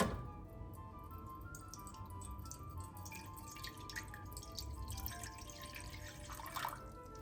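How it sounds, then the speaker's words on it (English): Water poured into a cooking pan in a home kitchen, a steady trickle with light drips and splashes and a faint knock near the end, close and quiet with no talking. "Pour a little water into a pan."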